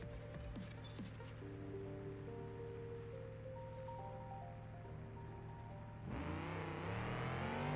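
A Roamer with a 540 engine launches at a drag race start in BeamNG Drive, its engine holding a steady idle drone before snapping into a loud, rising rev that swells as the car leaps off the line.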